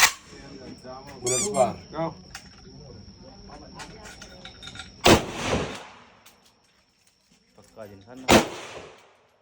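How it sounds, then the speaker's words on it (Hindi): Two sharp, loud gunshots from a real gun crack out several seconds apart, each with a brief echoing tail, while people talk and a steady high tone hums in the background. "गोली का शोर आप देख रहे हो ना"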